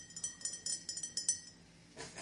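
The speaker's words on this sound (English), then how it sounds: "This is the sound of my nails hitting my bottle." Butterfly-decorated fingernails tapping a glass bottle in a quick, irregular run of light, bright clinks, faint and close, trailing off into a soft rustle.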